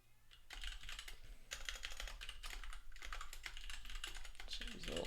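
Rapid, steady typing on a computer keyboard, close and fairly loud, with dense clicking keystrokes running throughout and brief pauses between bursts.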